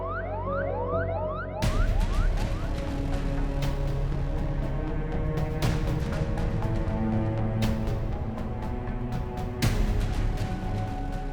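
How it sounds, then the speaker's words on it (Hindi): An ambulance siren wails steadily and loudly with a rising and falling electronic tone. It goes on throughout, with a few sharp clicks and knocks over it and no voices. "एम्बुलेंस आ गई है"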